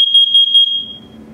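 Nest Protect smoke and carbon monoxide alarm sounding its self-test: a loud, piercing high-pitched electronic beep pulsing in quick bursts, then fading out into low room noise.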